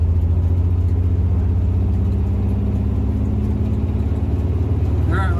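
A classic Volkswagen rolls along with a steady low engine rumble and road noise, evenly loud throughout with a slight rise at the end.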